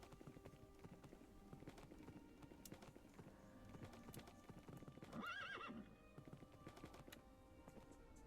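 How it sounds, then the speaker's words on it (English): Horses in Minecraft, a video game, with steady clip-clop hoofbeats throughout and a single high neigh in the middle, all at a low, soft level. "Horsey! I love that there's horsies available everywhere!"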